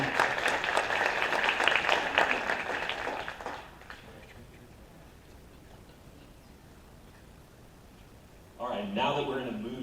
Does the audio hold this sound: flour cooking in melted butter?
no